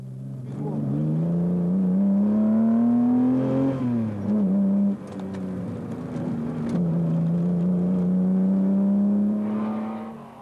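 A Ferrari Daytona racing car at the Tour Auto holds a loud, steady engine drone close by, rising in pitch, easing briefly, then pulling strongly again, with no voices.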